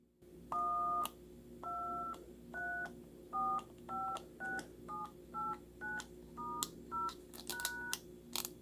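Beeping DTMF tones from a vintage 1980s Radio Shack handheld tone dialer, about a dozen separate two-tone beeps at a steady button-press rhythm and then a quicker burst, clear and close with no voice.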